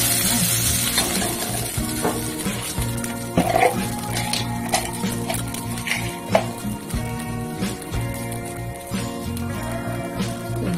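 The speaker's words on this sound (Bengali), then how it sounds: "ভালো করে ভেজে নিচ্ছি।" Whole spices and bay leaves fry in a pan for a Bengali rice pudding, giving a continuous sizzle with occasional stirring scrapes and crackles, close and steady, with no talking.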